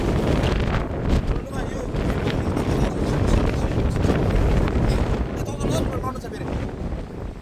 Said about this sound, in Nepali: कस्तो हावा चलेको यही डाँडामा